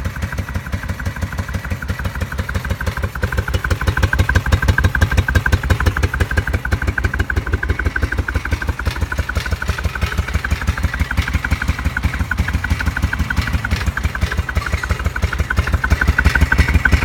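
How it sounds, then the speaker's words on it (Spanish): A 1991 Moto Guzzi 750 Targa motorcycle engine idles steadily up close, its even low throb holding a regular pulsing rhythm throughout with a slight rise in level after the first few seconds. "A ver si mantiene el ralentí."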